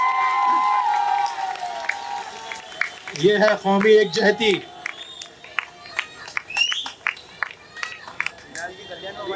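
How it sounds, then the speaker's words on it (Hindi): A crowd at a public rally breaks into loud clapping and cheering in bursts, under and between someone speaking in Hindi-Urdu, with a sharp loud stretch of cheers midway. "जोरदार तालियां"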